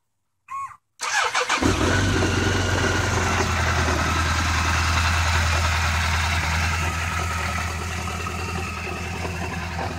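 A 2002 BMW K1200RS motorcycle engine cranks briefly, pauses, then fires up and settles into a loud, steady idle that hums on without interruption.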